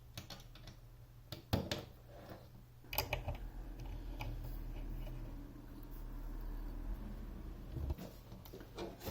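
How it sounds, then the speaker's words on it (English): Four screws tightened with an Allen key on the guide rail connector of a Parkside PTSS 1200 B1 plunge saw, faint small clicks and ticks of metal on metal, scattered and quiet in a still room. "with the provided Allen key, you just tighten the 4 screws"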